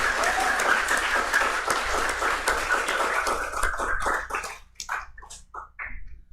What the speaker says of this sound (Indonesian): Tepuk tangan untuk Kak Joy.